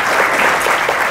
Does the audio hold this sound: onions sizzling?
no